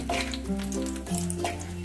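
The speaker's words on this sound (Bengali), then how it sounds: "ফোড়নটা একটুখানি ভাজা হলে বেশ সুগন্ধি একটা বেরোলে তারপরে আমি পেঁয়াজটা দিয়ে দেব" Whole spices crackle and sizzle steadily in oil in a pan, with a low stove hum beneath and a few light scrapes as the spices are stirred.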